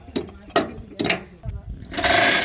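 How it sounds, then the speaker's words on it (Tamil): A chain block hoist ratchets in short metallic clicking bursts while lifting a transformer at a TNEB site, several quick pulls close by, then a louder rattling run at the end with a voice speaking over it. "செயின் பிளாக் போடுறாங்க பாருங்கள்"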